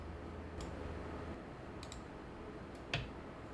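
Computer mouse clicking Next in a setup wizard, a few sharp, quiet clicks spaced apart over faint room hiss.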